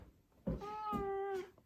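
Albie the cat lets out a single drawn-out, tonal meow of about a second, close and fairly quiet, in a quiet home.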